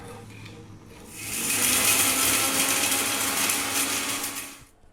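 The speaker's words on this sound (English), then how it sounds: "we're then going to put it into a grinder, like a coffee grinder or something like that, or a spice grinder" An electric spice grinder whirs loudly and steadily as it grinds toasted Bukhari masala spices, starting after a second of quiet, running about three and a half seconds, then cutting off.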